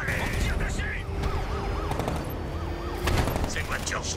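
Gunfire aimed at the player in a Batman video game: dense bursts of shots and cracks mixed with a wavering siren-like tone and mechanical clatter, loud and busy throughout.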